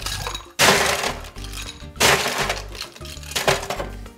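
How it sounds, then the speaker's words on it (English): Ice cubes dropped into a cocktail glass while making a Hemingway Special daiquiri, heard as three loud clattering crashes spaced about a second and a half apart, close and clear with no talk. "What we want to do now is just grab some ice,"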